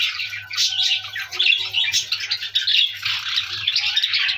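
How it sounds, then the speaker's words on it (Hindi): Pet lovebirds kept for breeding squawk and chirp in a rapid, busy stream of shrill calls, close and fairly loud, with a low steady hum underneath and no talking. "और ये मेरे पास लव बर्ड है"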